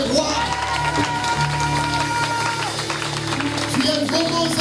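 A church congregation at a French-language prophetic worship service cheers and applauds, loud crowd claps and shouts blending with sustained music throughout.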